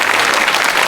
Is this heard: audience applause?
yes